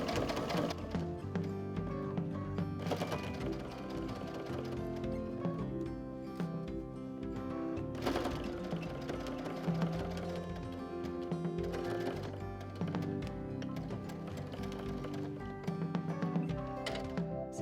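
A sewing machine quilts rows of stitching through a quilt-as-you-go block with flat low-loft batting, fast rhythmic needle chatter running steadily with brief pauses and short bursts for reverse stitches, close and fairly quiet.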